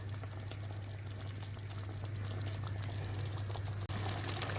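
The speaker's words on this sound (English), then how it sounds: "Let it simmer for 5 minutes. Look at that bubble." A pot of soup, garnished with green onions, simmers uncovered on a stove with a steady, soft bubbling hiss under a low constant hum, heard close with no talking and a brief dropout near the end.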